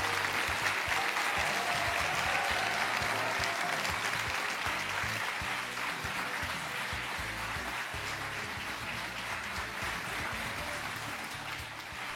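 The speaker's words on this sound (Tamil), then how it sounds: "இந்த கைத்தட்டல்கள் தொடரட்டும்." A studio audience applauds steadily for the entrance of India's foreign minister S. Jaishankar on a televised courtroom-style talk show, a dense, sustained clapping that fades slightly toward the end.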